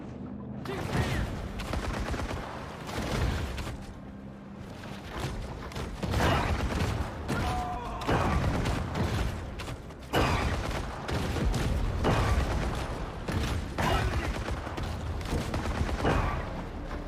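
Machine gun fire in the shark video game Maneater, dense overlapping bursts of gunshots and mechanical clatter that run nearly continuously at high volume, with game sounds mixed in.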